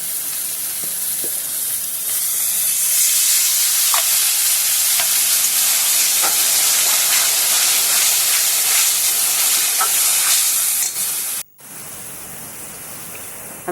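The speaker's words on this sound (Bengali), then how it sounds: "এবার মশলাটা ভালো করে আমি কষাতে থাকবো যতক্ষণ" Spice paste sautéing in oil for a Bengali egg curry, a loud continuous hissing sizzle with scattered spoon clicks, dropping out briefly before resuming a little quieter.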